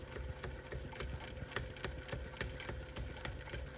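A longarm quilting machine stitching binding, a quiet, steady motor hum with quick rhythmic needle ticks repeating evenly throughout, heard close up.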